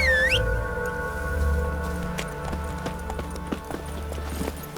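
Roach, a horse in Witcher 3, gallops with rhythmic hoofbeats over a steady low rumble, after a brief rising whistle-like call at the start; close and fairly loud.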